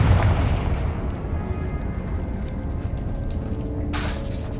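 A Confringo blasting spell explodes in Hogwarts Legacy with a heavy boom at the start, then a long, low rumbling decay, with a brighter crackle near the end.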